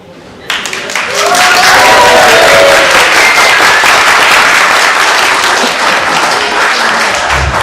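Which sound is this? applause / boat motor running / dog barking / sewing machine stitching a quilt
applause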